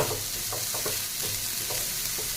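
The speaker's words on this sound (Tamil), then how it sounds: "இதையும் வதக்கி விடுங்க இதோட சேர்த்து." Steady sizzling of vegetables and sweet potato being sautéed in a pan, with soft stirring scrapes of a utensil at intervals.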